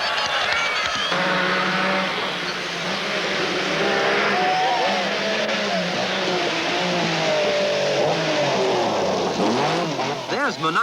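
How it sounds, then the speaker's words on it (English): A Lancia Stratos rally car's engine on a rally stage, loud and sustained with shifting revs and pitch sweeps, heard beneath a commentator's continuous voice. "the Stratos is one of the fastest rally cars in the field"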